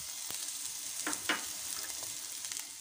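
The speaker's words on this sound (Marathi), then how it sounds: "ह्या सर्व भाज्या आपण छान फ्राय करून घेऊया, छान सॉफ्ट होईपर्यंत" Capsicum, carrot and cabbage fry in a pan for veg momo filling, giving a bright, steady sizzling hiss with a couple of quick scraping stirs in the middle; quiet and close, with no talking.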